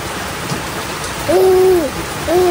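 Steady rain hisses throughout at a fishpond while a hooting call rises and falls twice over it, clear and fairly near.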